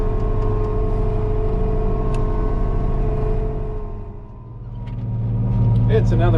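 A Massey Ferguson 9795 combine harvester engine runs slowly while warming up during a bean harvest on a breezy day, a loud steady diesel rumble that dips briefly and then swells again, with a voice speaking near the end.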